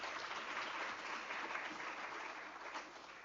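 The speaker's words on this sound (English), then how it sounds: "And can we just give our doctor a round of applause," An audience at a national records management conference gives a round of applause, a steady, fairly faint wash of clapping from many people in a hall, continuous and slowly easing toward the end.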